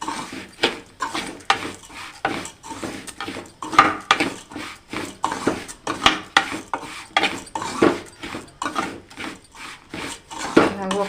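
Semolina and vermicelli roasting in a pan, stirred with a spoon that scrapes and clinks against the metal in a steady, irregular rhythm, close and fairly quiet.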